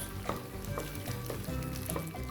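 Tomato paste and tomato puree sizzle in a pan as they are stirred, a steady, fairly quiet crackling hiss with occasional soft scrapes and no voices.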